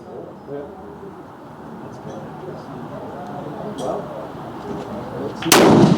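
A Swiss Martini Jagdstutzer rifle fires a single sharp, loud shot at a 300 m range. The report comes near the end, after several seconds of quiet outdoor ambience.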